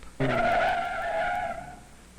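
A car's tires squeal in one sustained skid lasting over a second, loud and close, then fading out.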